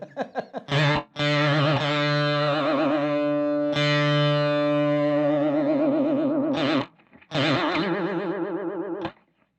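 Electric guitar through an Alexander Pedals Sugarcube set to a rotary speaker effect: sustained, distorted chords with a fast warbling Leslie-style swirl, broken by short gaps and picked notes, loud and close.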